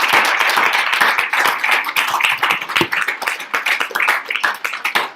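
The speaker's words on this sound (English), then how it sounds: "Let's give another round of applause." Audience applause at the end of a spiritual class, dense steady clapping from many hands that stays loud throughout, then thins slightly toward the end.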